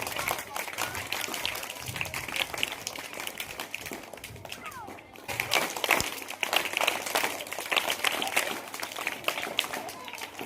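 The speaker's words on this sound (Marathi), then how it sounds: "जोरात टाळ्या." Schoolchildren at a Marathi village school clap loudly together, a dense continuous burst of many hands that briefly dips near the middle and swells again, close and lively, with voices mixed in.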